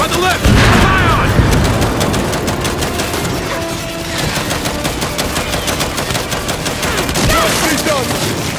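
Gears 5 gameplay brings dense, rapid gunfire with bursts of automatic fire and booms, while voices shout over the shooting.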